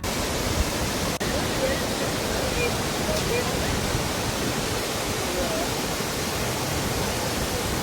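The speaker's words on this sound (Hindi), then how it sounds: "ये जगह नॉर्वे के उन वाटरफॉल में से एक है जहां लोग सबसे ज़्यादा फोटो लेते हैं" A waterfall in Voss, Norway roars as a dense, loud, continuous rush of falling water, steady throughout with no other sounds standing out.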